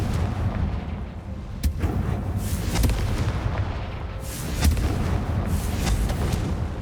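A Confringo fire spell blasts off in Hogwarts Legacy, giving a loud booming burst over dense rumbling game ambience, with sharp cracks near 1.7, 2.8 and 4.7 seconds and no talking.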